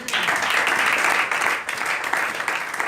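A church congregation applauds at a French-language service, dense sustained clapping filling the whole stretch at close, loud level without pause.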